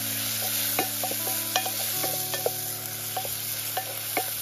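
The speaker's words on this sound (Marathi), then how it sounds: "तेलामध्ये मी 1 कांदा घालते, लहान आकाराचा कांदा चिरून घेतलाय. त्यानंतर इथे टोमॅटो सुद्धा घालते 1 आणि आपल्याला हलकासा परतून घ्यायचा आहे." Chopped onion and tomato sauté in oil in a pan, with a low continuous sizzle and repeated sharp clinks and scrapes of a spoon stirring, close and without speech.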